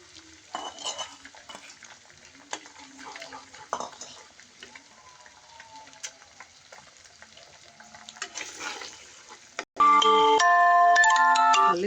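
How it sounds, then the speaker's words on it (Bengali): An egg fries lightly at the side of a pan, with stirring scrapes, utensil clatter and a soft sizzle close by. A loud burst of tonal music cuts in near the end. "এখন আমি সাইডে ডিমটা একটু হালকা করে ভেজে নিব"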